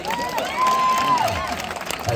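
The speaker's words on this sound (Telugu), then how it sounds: "దానికే చప్పట్లు కొట్టాల్సింది" Audience applause from a crowd at a speaking event, a brief scattered patter of clapping and cheering rising and fading, heard alongside a voice.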